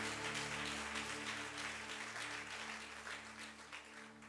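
A church congregation applauds during a sermon, a dense, steady roar of clapping that fades slightly toward the end over a low droning hum.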